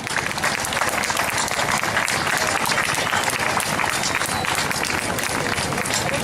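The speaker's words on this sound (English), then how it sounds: "I want to hear louder claps on that." An outdoor crowd at a charity colour run event claps and cheers in a loud, continuous roar of applause that stays dense and steady throughout.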